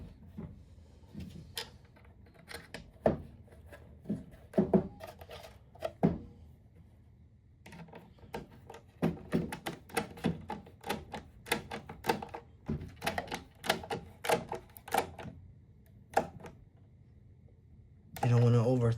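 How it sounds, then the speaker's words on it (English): Screws go into a thin, cheaply made plastic speaker housing for a custom AVAS speaker, heard as close, irregular clicks, ratchety taps and small knocks in bursts, with a louder handling bump at the end. "Now I have to put the other screws."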